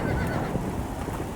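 A horse whinnies in the Western video game Red Dead Redemption on PC, a short, fairly quiet neigh set against hoofbeats and steady game ambience.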